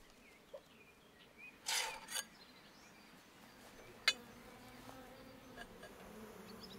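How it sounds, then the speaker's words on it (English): Bees buzz faintly outdoors in the wild, with a couple of short, louder passes close by and a sharp tick, over a quiet background hum. "Even the bees are getting in on the action."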